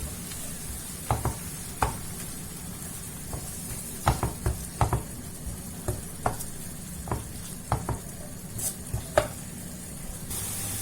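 A spoon stirs fish tart filling in a sizzling frying pan, with scraping and light tapping strokes against the pan over a steady close hiss of frying.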